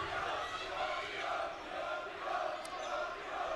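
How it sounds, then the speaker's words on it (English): Live crowd at a high school boys basketball game, Lincoln vs Cleveland, with a steady roar of many voices and cheering filling the gym at moderate volume. "This is a live crowd."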